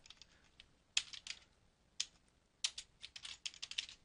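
A computer keyboard typed on up close while form fields are edited in a web application: sparse clicky keystrokes in short irregular bursts, with a few sharper key presses standing out against near silence.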